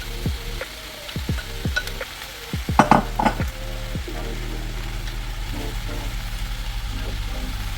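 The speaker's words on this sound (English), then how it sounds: "And I'm going to add my other mushrooms in here." Mushrooms sautéing in a pan over medium heat make a low sizzle under scattered spoon and pan knocks, with a burst of clatter near three seconds and a settling hiss afterward, and no voices.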